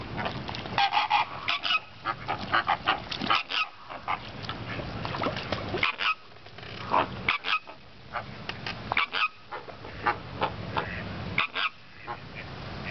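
Flamingos at a lagoon give repeated goose-like honks in irregular bursts, loud and close, with short quiet gaps between the calls.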